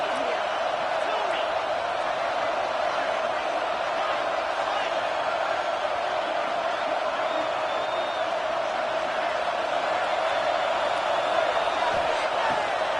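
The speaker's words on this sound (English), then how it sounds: "This crowd unhinged, trying to make sure the Gators don't back down on 3rd down." A college football stadium crowd roars without a break as the Gators' defense faces third down, a dense, loud wall of cheering that stays level throughout, with no single voice standing out.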